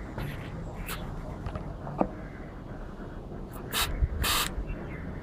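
A refillable pressurised chain spray bottle, pumped full of air and filled with oil, releases short hissing bursts of spray, faint and close, over a steady background noise.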